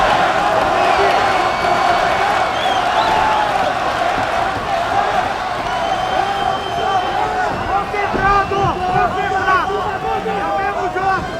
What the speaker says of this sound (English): this crowd is cheering for Maia